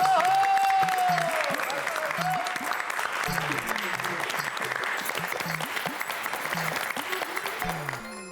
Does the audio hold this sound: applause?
yes